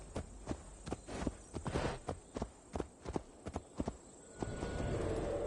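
A horse walking in the video game Assassin's Creed Valhalla, hooves clip-clopping in a steady, evenly spaced rhythm, close and clear over a low ambient hum that swells toward the end.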